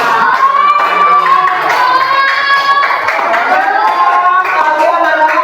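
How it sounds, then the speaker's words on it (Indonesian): Children clapping together in an Indonesian primary school classroom, a loud, sustained burst of applause with excited young voices and chatter mixed in throughout. "Tepuk tangan buat kita semua."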